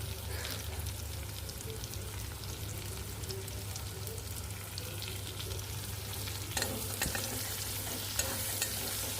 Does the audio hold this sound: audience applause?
no